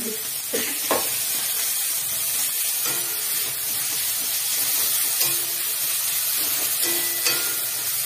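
Chili paste and ginger paste sizzle hard in a hot pan with boiled chicken waiting to go in, a loud continuous hiss broken by a few sharp spatters and stirring clinks, close and alone without talk.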